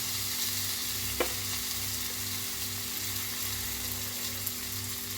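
Plantain slices frying in a light film of oil give off a steady, close sizzle with a soft crackle, and one brief sharp tick near the start, with no talking.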